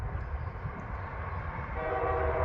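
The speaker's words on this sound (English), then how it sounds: "Moving east, Union Pacific with some coach cars." An eastbound Union Pacific train with coach cars passes, its steady low rumble and rolling noise growing slightly louder toward the end, with a faint sustained horn-like tone.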